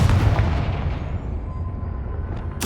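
A Confringo spell blast in Hogwarts Legacy hits as a heavy, booming explosion with a rumbling tail that fades over about two seconds, then a sharp new burst at the end.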